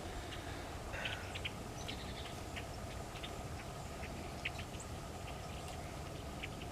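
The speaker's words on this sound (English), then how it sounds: "Those are blackbirds in the tree." Many blackbirds chattering and calling from a distance, a dense flock in a tree over a steady low rumble of background noise.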